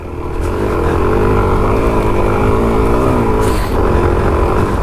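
A Suzuki DRZ 400 SM motorcycle ridden along a fire trail, its single-cylinder engine droning steadily and loudly close to the microphone with a slight rise in revs and constant wind rumble.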